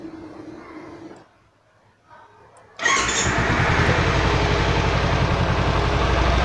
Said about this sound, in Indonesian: So sekarang kita start eh motor ni.